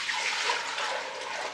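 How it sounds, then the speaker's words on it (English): Water poured into a cooking pot in a kitchen, a continuous soft splashing hiss of moderate loudness with no one speaking. "First thing we're going to do, add lots of water"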